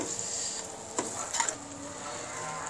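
A spoon scraping and stirring boiled chopped eggs in a masala pan, a couple of brief scrapes over a soft steady sizzle, close and quiet.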